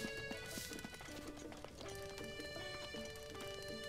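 Horse hooves clip-clop at a walk in Zelda: Breath of the Wild, a faint rhythmic patter under game music.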